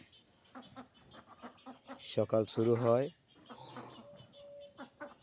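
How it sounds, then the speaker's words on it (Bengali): Morning bird and poultry sounds in rural Bengal, with a loud burst of rooster-like crowing and clucking in the middle, heard under a voice narrating throughout. "বা পাখিদের কোলাহলে"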